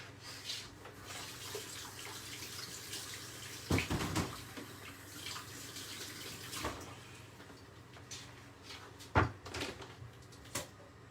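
Small peppers rinsed under a running kitchen tap, a steady water hiss with occasional knocks and clunks from handling, fairly quiet and with no talking.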